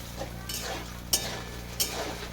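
Amla pickle cooking in oil with jaggery, stirred in a pan: a low steady sizzle with soft scraping strokes and two sharp clinks of a utensil against the pan.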